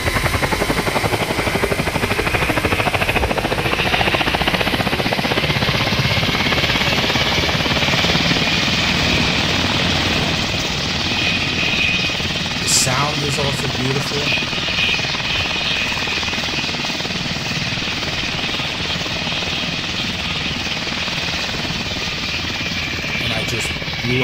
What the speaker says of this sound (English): let me actually try to hover this aircraft